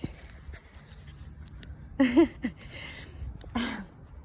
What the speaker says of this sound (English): I hope you can hear my voice over my dog.